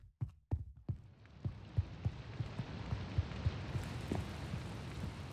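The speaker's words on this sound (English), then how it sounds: "How is it I can hear rain down here?" Steady rain falling in the video game Minecraft, a continuous soft hiss with faint low thumps, beginning after a few sharp knocks at the start and holding at an even level.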